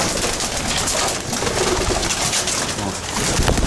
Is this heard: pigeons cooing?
yes